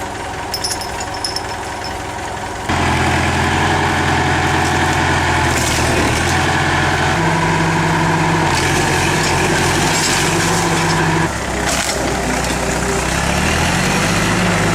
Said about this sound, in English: they are really forcing this old tractor to the limit.